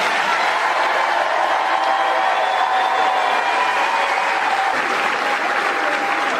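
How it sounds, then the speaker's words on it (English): Sustained applause from a large audience at a high school graduation fills the space, steady and loud throughout, with no pauses or voices rising above it. "let's give a round of applause for all of our graduates today"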